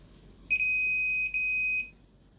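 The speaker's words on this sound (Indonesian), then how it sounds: "buzzer akan berbunyi dan lampu merah akan menyala" Buzzer of an obstacle-detecting sensor circuit sounding a steady, piercing electronic tone for about one and a half seconds, with a brief dip partway through, heard alone and close.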